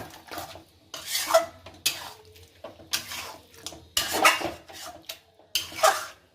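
Mutton being stirred and fried with cumin powder, ketchup and spices in a pot: repeated scraping clinks of a metal spoon against the pot, close and fairly loud, in irregular strokes over a faint sizzle.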